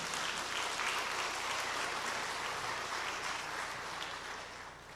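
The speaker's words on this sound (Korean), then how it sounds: "우리 하나님께 영광의 박수를 돌립시다." Sustained applause from a church congregation at an Easter thanksgiving service, many hands clapping densely and steadily for the full length, tapering slightly at the end.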